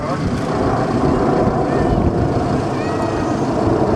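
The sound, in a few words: jet aircraft flying overhead at an airshow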